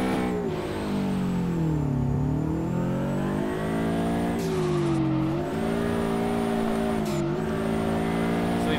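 A Subaru BRZ drifting in the racing game DRIFT21, its engine holding a loud, steady high-revving drone with rising and falling pitch as the throttle shifts, and tires squealing continuously throughout.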